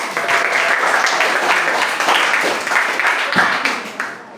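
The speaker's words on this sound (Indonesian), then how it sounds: "Tepuk tangan kelompok 3." Students in a classroom lesson clap for a group, a loud, busy burst of many hands that holds steady for several seconds and then thins out toward the end.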